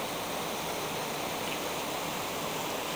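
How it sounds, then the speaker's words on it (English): Glens Creek, a Kentucky stream beside the Old Crow distillery pump house, flows in a steady, dense rush of water, close and continuous, with no voices. "This is Glens Creek before the spill in April 2019, just off of Old Crow's pump house."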